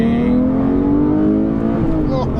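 A Porsche 911 GT3 engine revs hard under full acceleration, its pitch climbing steadily and loud from inside the car, with a person talking over the drone.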